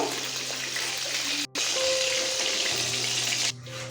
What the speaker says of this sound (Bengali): এইভাবেই আমরা প্রত্যেকটা মাছ ভেজে নেব